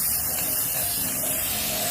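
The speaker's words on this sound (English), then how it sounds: "So now we're just going to spray paint it and have it looking awesome." A can of silver spray paint hisses in one steady, unbroken jet, close and fairly soft, with no voices over it.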